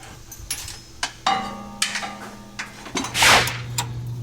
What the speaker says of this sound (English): you can see he is using a wrench on that to get those two 8 millimeter bolts out of there